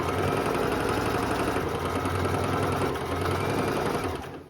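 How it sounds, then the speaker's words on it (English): A sewing machine hems the bottom edge of a thrifted skirt, its needle running in a steady, continuous whir at close range for several seconds before slowing to a stop at the end. "I'm gonna start by just hemming the bottom."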